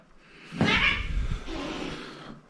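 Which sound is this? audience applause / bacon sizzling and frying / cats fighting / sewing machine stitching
cats fighting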